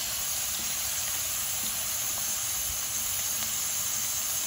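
Ginger, garlic and chilies sizzle in a hot pan for a runner bean and potato curry, a steady close hiss of frying that runs without pause.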